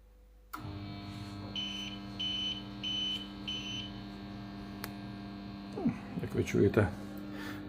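A steady low mechanical hum of boiler circulation pumps, powered from an APC 500 UPS, runs throughout, with faint intermittent electronic beeps and some clattering handling noise near the end.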